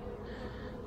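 Honeybees in nucleus hives hum steadily around foundation frames during an inspection, a soft, continuous close buzz with no voices.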